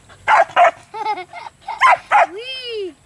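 A dog barks and yips in short sharp bursts near a snake being caught in the countryside, with a rising whimper-like whine at the end.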